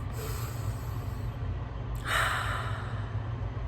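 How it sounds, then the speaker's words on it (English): One deep breath drawn in and then slowly let out, an audible inhale followed by a long breathy exhale, close and alone over a low steady hum. "please take a deep breath"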